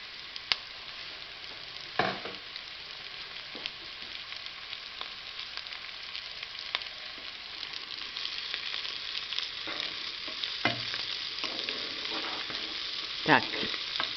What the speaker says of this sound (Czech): Teď si na tu cibulku přihodím ty pokrájené slovenské papriky.